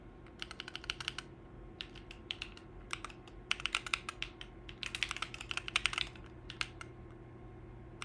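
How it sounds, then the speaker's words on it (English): Someone types on a computer keyboard, the keys clattering in quick irregular bursts with short pauses over a faint steady hum, with no voices. "was that your keyboard, Kraut?"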